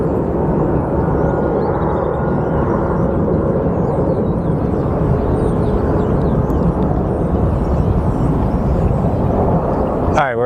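Spirit Airlines airliner at Sky Harbor Airport, a steady loud jet roar filling the whole stretch with little variation, close and continuous with no talk.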